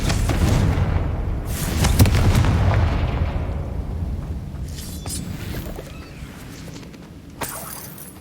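Confringo blasting spell explosions in Hogwarts Legacy: a loud booming burst opens, then sharp cracking blasts land around two, five and seven seconds over a rumbling low roar that slowly fades.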